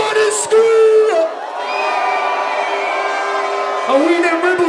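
Crowd at Notting Hill Carnival during a Chase & Status set, loud sustained cheering and whooping that swells and holds over several seconds, with an MC's amplified voice shouting over the top at the start and end.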